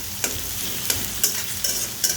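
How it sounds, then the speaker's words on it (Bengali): A spoon stirs potato fry with chili paste in a hot pan: about five sharp scraping strokes at an uneven pace over a soft, steady sizzle, close up with no talking. "এই সব কিছু ভালো করে নেড়ে নিব।"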